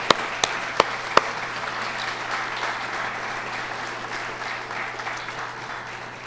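At an urban design awards ceremony, the audience applauds a committee: a few sharp individual claps open, then dense, even clapping continues steadily throughout.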